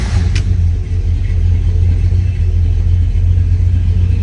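A 1958 Ford Custom 300 engine idles steadily after a cold start, a loud, even low rumble running close by and continuously, with one brief bright click near the start.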